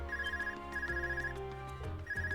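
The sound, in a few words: Arcus device ringing in Trails of Cold Steel video game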